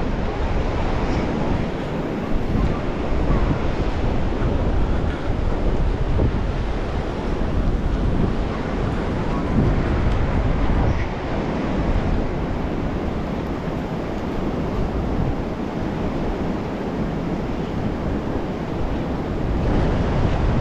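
Ocean surf washes steadily onto the sand at Praia da Costa, a beach lined with coconut palms, with gusty wind buffeting the microphone. The roar stays loud and continuous, without voices.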